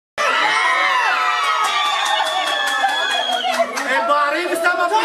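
A group of children shouting loudly together in a Turkish shouting game, a dense, sustained burst of high voices that starts abruptly and carries on at full volume with overlapping cries.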